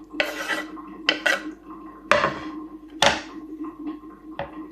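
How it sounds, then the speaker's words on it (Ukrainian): Knife strokes slicing cucumbers in half, several sharp chops and slices at an uneven pace on a board, close by with faint kitchen clatter. "Огірочки спочатку перерізаю навпіл."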